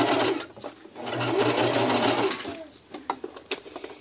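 A sewing machine stitches spirals onto a Queen Amidala Invasion gown, with close rapid whirring bursts that start and stop. Quieter handling noises and small clicks follow once the stitching pauses.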